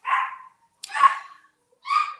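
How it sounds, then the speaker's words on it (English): Dogs bark three times at a fairly close distance, each bark a short harsh burst separated by quiet gaps, with no talking in between. "Oh, the dogs are going crazy. I'm sorry if you hear them."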